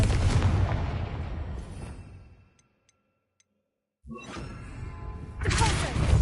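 Confringo fire spell cast in Hogwarts Legacy, a loud burst of blasts and crackling impacts that fades out into near silence before a second booming burst erupts and swells again.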